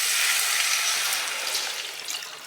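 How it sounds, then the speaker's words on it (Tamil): Coconut milk pours into a hot pan with sautéed onion and tomato, a steady bright hissing stream that softens slightly as it goes on, close and alone without talk. "இப்போ தேங்காய் பாலை இதில் வந்து ஆட் பண்ணுறேன்"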